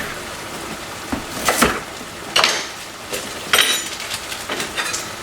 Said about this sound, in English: I'm just mincing this